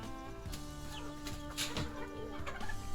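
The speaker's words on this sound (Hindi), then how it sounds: "ये ऑस्ट्रेलूप के 2 मुर्गे हैं।" A pair of young Australorp roosters, about three months old, cluck softly and repeatedly in short, low calls with no voices over them.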